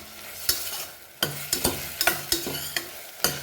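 Stuffed brinjal fries in a pan for a Goan dish with dry shrimp, a steady close sizzle broken by sharp clicks and scrapes as the pieces are stirred and turned, with no voices.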